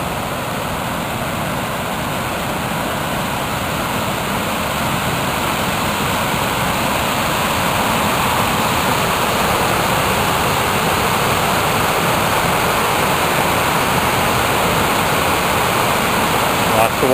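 A steep man-made waterfall in the Adirondacks pours in a continuous broad roar of rushing water, steady and fairly loud throughout with no break in the flow.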